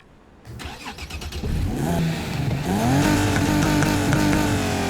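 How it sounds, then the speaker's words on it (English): A tuned car exhaust in the racing game Need for Speed Heat starting up and revving, then climbing in pitch as it accelerates, loud and close with a raspy buzz, no talking over it. "We can kind of tune our exhaust sounds."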